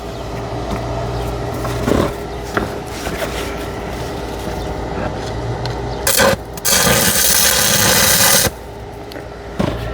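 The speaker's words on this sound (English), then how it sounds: "All right, now we just got to get this thing welded" Arc welding on an RV stabilizer jack: a steady low crackling buzz with short bursts and a louder, sustained hissing sizzle of the arc near the middle of the clip, close by, with no talk.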